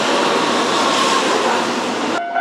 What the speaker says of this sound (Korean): 오, 기차 온다